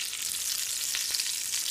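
Rolled tacos browning in hot oil, tortilla flap side down, giving a steady close sizzle and crackle with a few small pops, no talking.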